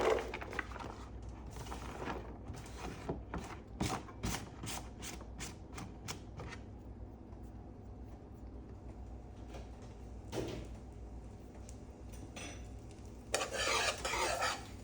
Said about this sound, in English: Butter is pretty much melted, so I'm gonna go ahead and add my shallot and minced garlic